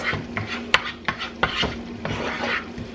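A utensil scrapes and knocks against the bottom of a pan while cooking taco fillings with beans, giving several sharp clacks and rasping strokes up close with no talking.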